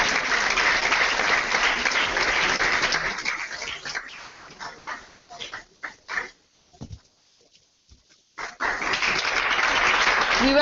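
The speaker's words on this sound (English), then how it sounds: "could we have a thunderous round of applause for Mr." A large audience at a stage event breaks into loud, sustained applause that thins out into scattered claps, falls nearly silent, then swells back to full, dense clapping.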